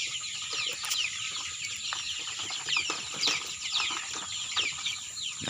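Young chickens cheep and cluck steadily inside a simple heated brooder box, a dense chorus of high chirps with no talk.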